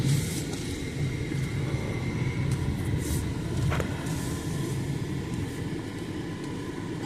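A car drives past on a winding road through Great Smoky Mountains National Park near Metcalf Bottoms, a steady loud rumble of engine and road noise that swells slightly midway, heard from inside another vehicle with no talk.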